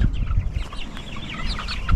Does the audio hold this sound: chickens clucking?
yes